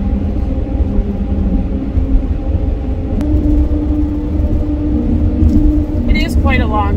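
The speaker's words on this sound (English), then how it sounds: "It's almost like a song when you're driving over the grates." Car tyres rolling over the steel grate deck of the Mackinac Bridge, giving a steady, loud droning hum that runs unbroken throughout, with a brief chirp near the end.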